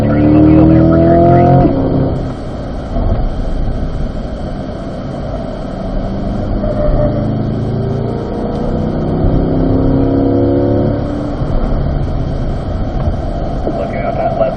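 A Corvette engine powers up along a race track, a loud close roar that rises in pitch and holds steady as the car drives. A voice in a low-level, intercom-like tone speaks over it at points.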